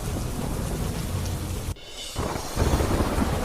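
A heavy monsoon downpour in the Kalavad area of Jamnagar makes a dense, loud roar with low rumbling. The sound drops sharply for a moment, then the heavy rain returns.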